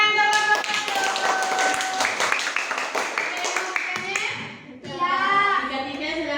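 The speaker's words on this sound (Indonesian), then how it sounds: "tepuk tangan" Children in a primary classroom clap along with a teacher's lesson, with scattered taps and claps mixed into children's voices and humming, then a brief pause before more voices.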